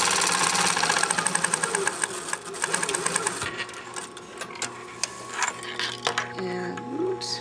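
A sewing machine stitches a sleeve placket seam, a fast rapid mechanical whirring rattle for the first few seconds, then stops, leaving scattered handling clicks and light rustles up close.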